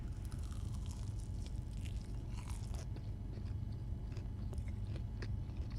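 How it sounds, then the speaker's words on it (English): Close, crunchy bites and chewing of a chicken tender dipped in honey mustard, a sharp crunch early on followed by steady chewing near a microphone, with no talking. "Gonna take the first bite."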